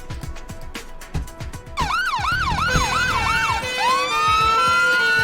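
Video game fire engine sirens wail in a rapid rising-and-falling pattern, then shift to a long steady rise, loud and close over a rumbling background.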